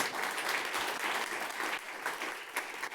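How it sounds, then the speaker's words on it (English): Conference audience breaks into steady applause after a talk by a Google executive, a dense wash of clapping hands filling the room for a few seconds with no voices on top. "that's okay, you can applaud, I'll take it"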